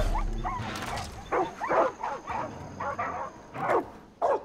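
Dogs bark and yip in the video game Far Cry 5, several sharp barks in irregular bursts, some close and loud, with whimpering tones in between.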